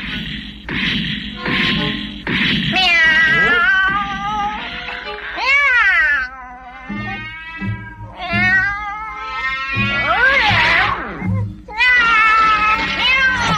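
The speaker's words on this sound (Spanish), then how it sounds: "¡Qué maravilla! Un gato nos salvó." A cartoon cat in the animated series Robotech lets out a run of loud meows and long, wavering yowls over several seconds, with occasional low thumps between the cries.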